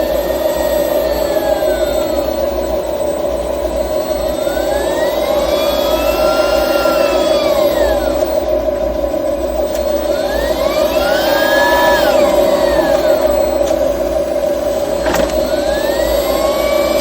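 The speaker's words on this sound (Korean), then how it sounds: "지금 모터로만 돌리고 있는 중입니다." A Kia K5 hybrid sits in D mode while its electric motor alone turns the wheels. It gives a steady whine with tones that swoop up and down as the wheels spin and stop, with no talking.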